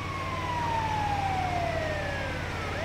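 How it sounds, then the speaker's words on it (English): An ambulance siren in the video game GTA 5 wails in a steady, slowly falling tone over a constant low traffic rumble, with no talking. "Great move bringing an ambulance."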